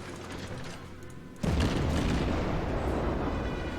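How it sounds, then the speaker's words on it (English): A Tier I Eerie class cruiser in World of Warships opens fire, a sudden heavy boom partway through that rolls into a sustained loud rumble of naval gunfire and explosions. "All 4 guns are engaging"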